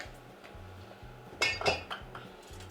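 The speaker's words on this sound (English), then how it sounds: "I'm just going to whisk this together to combine." Spices such as cayenne and black pepper are whisked together in a bowl, giving light clinks and scrapes of a whisk on the bowl, repeated in a quiet rhythm with a few sharper knocks in the middle.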